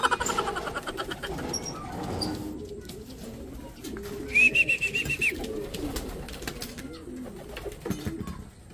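Racing pigeons returning to the loft after a fun race, giving soft, repeated throaty coos close by, with a brief whistle-like chirp and light rustling in the background.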